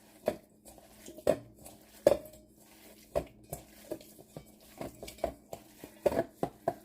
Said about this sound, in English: start mixing my ground beef with the salt and pepper and onions